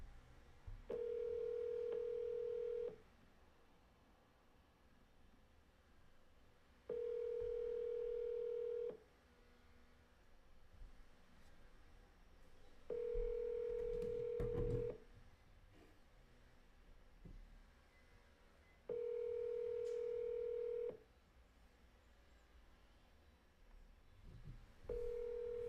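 A phone call rings out as evenly spaced ringback tones, each lasting about two seconds with roughly four seconds of silence between them, steady and moderately clear over faint background noise.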